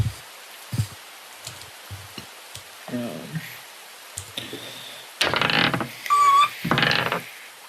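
Rain sound effect playing in a tabletop roleplaying game session, as patchy hissing bursts of rainfall that swell louder toward the end, mixed with faint clicks and muffled background voices.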